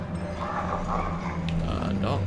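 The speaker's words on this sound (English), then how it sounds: "Dogs." Dogs bark and yip in the horror video game Until Dawn, heard under a steady background hum with game ambience, fairly continuous over a couple of seconds.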